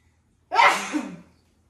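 One loud, close sneeze in a kitchen while Cajun spice is added to shrimp, a sharp burst that trails off quickly, surrounded by quiet.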